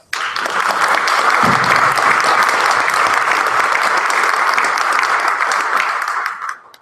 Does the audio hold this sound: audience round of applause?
yes